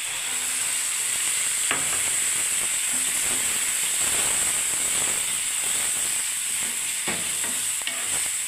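Water poured into a pan of poppy seed paste with cashews, a loud continuous sizzle and hiss with occasional scraping clicks of a utensil against the pan, no talking.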